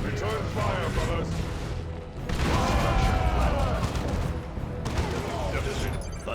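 Battle gunfire in Warhammer 40,000: Dawn of War, a crackling fusillade with booms and clanks that swells midway, heard under in-game voices.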